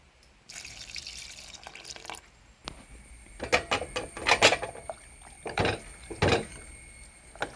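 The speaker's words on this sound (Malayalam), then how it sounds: "ഇതിലേക്ക് ഞാൻ പുളിവെള്ളം ഒഴിച്ചു കൊടുക്കലാണ്" Tamarind water poured into a pot of sambar, a short pouring rush followed by a run of wet splashes, clinks and knocks at close range.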